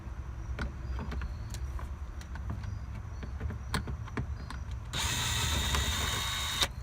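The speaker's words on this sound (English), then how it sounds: "So we're going to use a drill to make it easier." A power drill works on the screws of a Honda Accord center console, with scattered clicks and ratcheting ticks followed by a louder, continuous whirring drill run near the end, close by.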